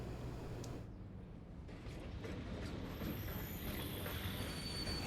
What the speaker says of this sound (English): Oh, there's the another train there.